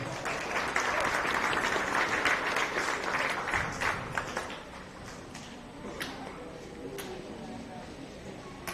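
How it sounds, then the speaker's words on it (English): Audience applause at a county fair beef show, a crowd clapping steadily before thinning to a few scattered claps, with faint talk underneath. "Let's give this young lady a big round of applause."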